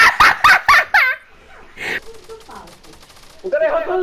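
A shooter video game fires a rapid burst of gunshots, loud repeated cracks in quick succession, followed by quieter game sounds while a player talks excitedly.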